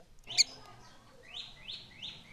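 Young chicks about 27 days out of the shell chirp while an adult bird feeds them: one sharp, loud chirp, then a run of softer repeated high tweets close by.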